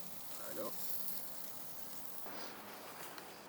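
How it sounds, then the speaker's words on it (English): Cheese sizzling on an open-fire backyard grill beside picanha, a soft steady hiss and crackle running throughout, with someone talking over it. "You can already hear the cheese sizzling"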